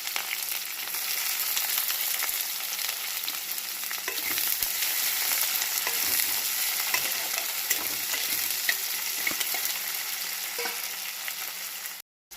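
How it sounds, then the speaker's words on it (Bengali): Cardamom, cloves, cinnamon, bay leaves, dried chillies and onions frying in hot oil, a steady close sizzle with occasional stirring scrapes that runs continuously before cutting off abruptly. "ফোড়নটা একটু ভেজে নিই এলাচ লবঙ্গ লবঙ্গ আর হচ্ছে তোমার দারচিনি তেজপাতা আর শুকনো লঙ্কা এরপর পেঁয়াজগুলো একটু দিয়ে দিলাম"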